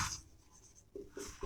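Chalk or pen scratching across a board during a Class 12 maths lesson, short quiet strokes in quick succession, close and faint with no talking over them.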